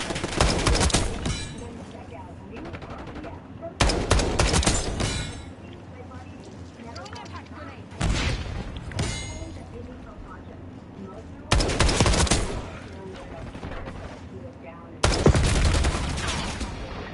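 Gunfire in the shooter game Call of Duty Black Ops 6 multiplayer, loud sharp bursts of rapid shots recurring every few seconds with quieter game sounds between.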